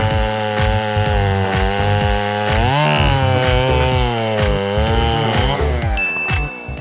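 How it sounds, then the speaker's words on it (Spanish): A drill fitted with a cheap 12-euro chainsaw attachment runs loud and close, a steady high whine with rhythmic chain chatter and small pitch swells as it cuts through wood, no voices over it. "Por 12 euros convierto este taladro en una motosierra."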